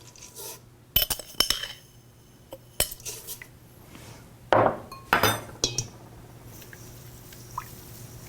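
Spoon clinking and scraping in a bowl while stirring chia seeds with hemp milk, a run of sharp metallic taps and swishes at irregular intervals, close and distinct over a quiet background.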